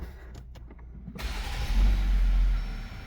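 A vehicle with a push-button start, fitted with factory 4.88 gears, 37-inch tires and Bilstein reservoir shocks, fires up after a quiet moment, then settles into a steady low idle rumble, close and alone.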